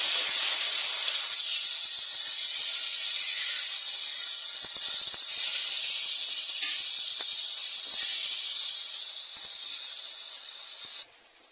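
Fish fries in oil in a pan, giving a loud, close, continuous sizzling hiss that holds steady throughout, with no talking.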